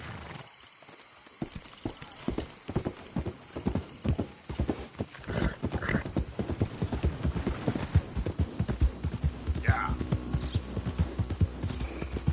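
Horse hooves clip-clop in a steady walking rhythm on a Red Dead Redemption 2 trail, close and continuous, with a couple of brief whinnies partway through and no talk.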